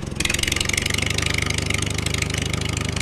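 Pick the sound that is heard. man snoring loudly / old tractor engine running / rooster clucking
old tractor engine running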